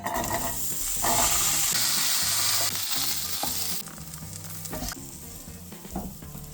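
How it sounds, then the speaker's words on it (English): Loud, steady sizzling of onions and peppers frying in a pan, with occasional clicks and scrapes of stirring, close and alone without voices. "we need to fry off some onions and peppers"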